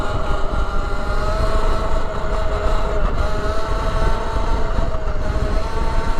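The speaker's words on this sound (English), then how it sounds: "Just feathering the throttle because it's so much power." A Sur Ronster electric dirt bike's motor whines continuously under throttle, loud and close with a steady high tone over rumbling wind and tire noise, without a break for the whole stretch.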